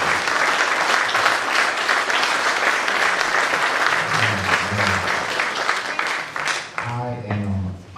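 A church congregation applauds in a dense, loud burst of clapping, with a voice speaking over the applause toward the end as it thins out.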